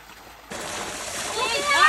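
Running water suddenly switched on, a steady close rush and splash starting about a quarter of the way in and growing slightly louder, with a voice faintly over it.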